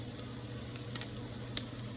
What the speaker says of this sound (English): So I like to brown my chicken because I think it gives it a little bit of extra flavor.